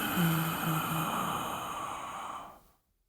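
One slow, airy in-breath taken after the lungs were emptied, soft and steady with a faint voiced hum at the start, tapering off into silence after about two and a half seconds.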